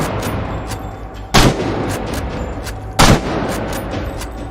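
Sporadic gunfire in the video game INSOMNIA: The Ark, two loud sharp shots a couple of seconds apart over a steady low ambient hum.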